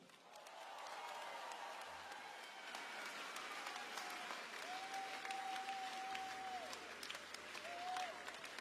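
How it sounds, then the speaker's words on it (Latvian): Festival audience applause welcoming a guest onstage at the Laima Rendezvous festival, a soft, distant wash of many clapping hands building and holding steady, with a faint sustained tone drifting over it. "Ar aplausiem sagaidiet."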